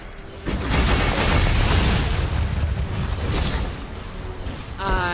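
A turret destroyed in the mobile game Mobile Legends, a loud, broad, roaring explosion that swells for several seconds and then thins out, with a short game voice cue near the end.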